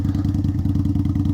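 An Indian Scout Bobber motorcycle engine putters at low RPM with a steady, deep, rhythmic pulsing, close and loud, with no talk.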